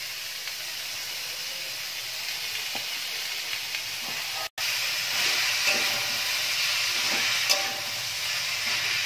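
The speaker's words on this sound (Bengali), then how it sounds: "এবার এই পেঁপেটা এই মশলার মধ্যে দিয়ে দিলাম" Grated raw papaya sizzles in a pan of frying spice mix, a continuous close hiss and crackle with a momentary break midway before the sizzle resumes, slightly louder.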